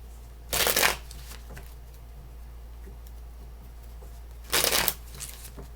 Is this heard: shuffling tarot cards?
yes